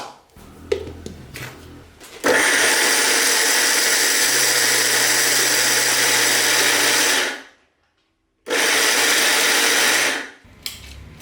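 A kitchen mixer grinds coconut and rice for coconut cutlets, whirring loudly and steadily for about five seconds, stopping briefly, then running again in a second burst, with some clattering before it starts.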